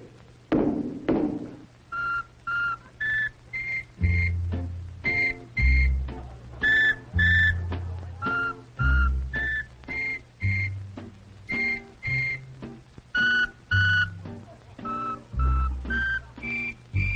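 Whistles powered by Freon aerosol propellant give a long run of short, bright tones at several pitches, sounding one after another in a steady rhythm with low thumps between bursts.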